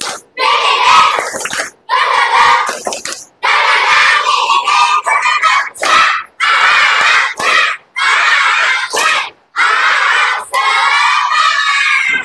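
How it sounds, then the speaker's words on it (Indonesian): A classroom of pupils performs the rhythmic tepuk semangat clapping chant in an Islamic religious education lesson. It comes as loud, close bursts of shouted chanting and clapping, each separated by brief pauses in a steady, fast pattern. "Satu kali lagi, tepuk semangat."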